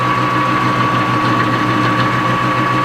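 A machine tool running at low RPM while taking light, interrupted cuts on a workpiece in a shop: a steady, loud mechanical hum with a constant whine, continuous and close, with no talk.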